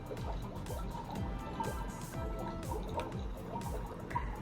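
Water is poured into the plastic chamber of a Beast Lab toy, giving a continuous gurgling trickle with rhythmic glugging pulses, close and moderately quiet.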